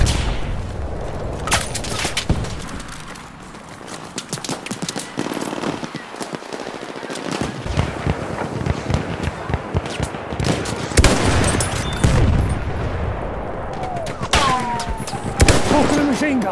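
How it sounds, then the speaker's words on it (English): Machine gun fire in a video game rattles out in loud, dense bursts mixed with other gunshots and booms, a chaotic battlefield soundscape with voices calling out over it. "Talk to the machine gun!"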